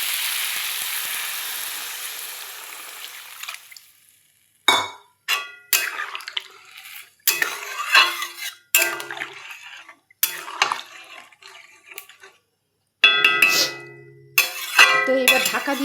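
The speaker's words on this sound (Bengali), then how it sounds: "চলো জলটা দিয়ে দিই।" Water poured into a hot pan of fish curry with ridge gourd and pointed gourd, a loud sizzling rush that fades, then clinks and scrapes of utensils against the pan.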